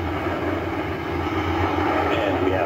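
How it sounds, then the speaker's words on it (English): Antares rocket lifting off on the Orbital 3 resupply mission, a steady broad rumbling roar with deep low-frequency energy, loud and continuous throughout. "And we have liftoff of Antares with the Orbital 3 mission"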